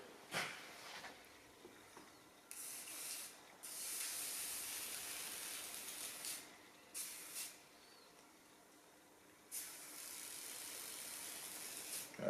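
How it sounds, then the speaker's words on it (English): Lamar universal jointing compound hisses from an aerosol can in several spray bursts, a long one and a few shorter, across the mating surfaces of a water pump on a B18/B20 engine, close and alone. "we just give a light spray over both surfaces"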